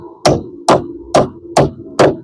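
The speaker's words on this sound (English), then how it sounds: "So I was going to drive nails in between these screws" A hammer drives nails into wood wall framing for an 8x8 tiny house side wall, giving five loud, close, evenly spaced blows about half a second apart.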